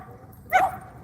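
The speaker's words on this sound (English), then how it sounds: "Look how big those dogs." A single short, sharp bark from a large dog at an outdoor dog park, fairly close, over a low murmur of background noise.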